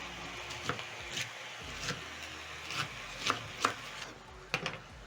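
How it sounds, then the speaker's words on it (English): A knife cuts through a leek on a cutting board, a few quiet, close taps and thuds spaced irregularly across the stretch. "So I'm going to slice in half."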